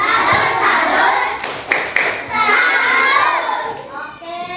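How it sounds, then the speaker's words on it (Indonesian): A class of children clap out a salute cheer together, a dense burst of hand claps with a few sharper accents, mixed with young voices chanting. "Kita beri tepuk salut ya."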